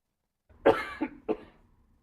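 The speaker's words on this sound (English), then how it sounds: "Mute me if you would, please, because I'm going to cough" Three short, harsh coughs in quick succession, close and fairly loud, each trailing off, with silence before and after.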